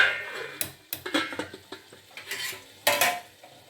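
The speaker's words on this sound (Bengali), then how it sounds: "এবার ঢাকা দিয়ে দেবো" Clinks and scrapes of metal on a cooking pot as a lid is set on, with meat curry simmering, a run of irregular light knocks and a louder clatter near the end.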